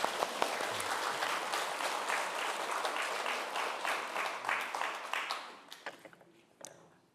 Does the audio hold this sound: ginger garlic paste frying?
no